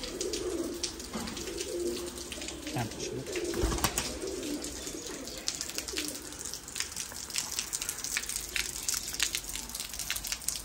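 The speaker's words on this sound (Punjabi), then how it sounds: "ਬੜਾ VIP ਕਬੂਤਰ ਜੇ" Pigeons coo repeatedly at close range in a loft, their low rolling calls recurring throughout, with rustling and clicks around them and someone speaking briefly.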